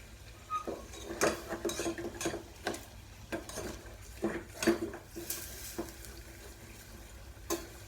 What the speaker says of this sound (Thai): คนให้มันเรื่อยๆจนกว่าจะแตกมัน